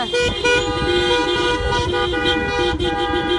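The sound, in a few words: convoy of cars and trucks driving, horns honking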